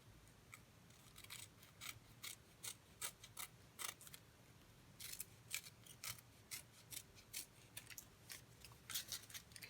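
Scissors cut away excess card during a birthday card craft, a close, quiet series of crisp snips in an uneven rhythm with brief pauses, and no talking.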